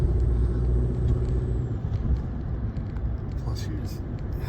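A truck engine idling while the cab heats up, a steady low rumble heard from inside the vehicle, with people talking over it.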